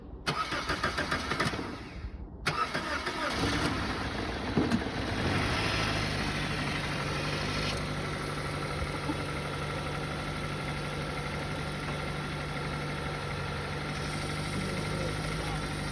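A 2003 Toyota Corolla with a VVT-i 16-valve four-cylinder and about 204,000 miles cranks briefly on a jump start at a towing auction, catches, then settles into a steady, close, even idle with a low hum.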